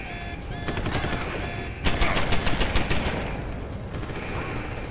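An automated turret opens up with machine-gun fire in the video game Deus Ex: Human Revolution, loud sustained bursts of rapid shots that grow denser midway, with no voices.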